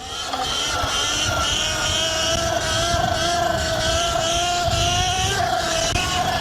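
A Sur-Ron Ultra Bee electric motorbike fitted with a Torp TC1000 17 kW controller pulls a wheelie, its motor whine rising steadily in pitch over constant wind rush, loud and close throughout.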